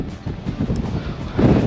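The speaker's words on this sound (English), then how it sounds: "It is so windy here." Strong wind on a beach on Iceland's south coast near big waves, a loud, rough, continuous rumble buffeting the microphone that swells near the end.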